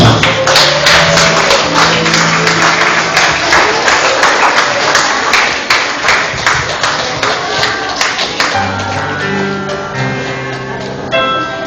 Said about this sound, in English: we shall rise stand and give the bride a round of applause